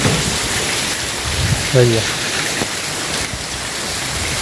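Heavy rain pours steadily during a downpour in a Gujarat village near Dwarka, a dense broadband hiss filling the whole stretch, with a short spoken word partway through.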